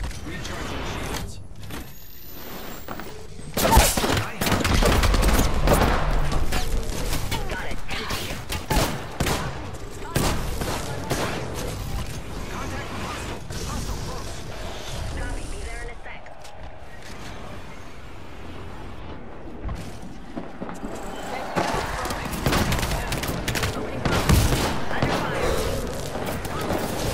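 Sustained video game gunfire, bursts of rapid shots crackling loudly over a long stretch with brief lulls, mixed with game effects and occasional talking.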